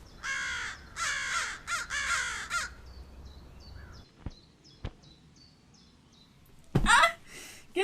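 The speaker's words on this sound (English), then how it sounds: "Get away from me, you birds!" Crows caw harshly in a radio drama sound effect: a quick cluster of loud, raspy caws, then faint chirps and a couple of dull knocks, and a final loud burst of cawing.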